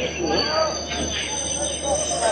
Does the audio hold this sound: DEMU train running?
yes